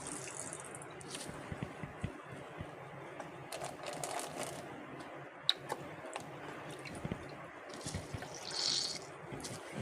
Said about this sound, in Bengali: এটাকে আগে আমি একটু জলে ভিজিয়ে নিচ্ছি, নিয়ে হাত দিয়ে চেপে নিচ্ছি।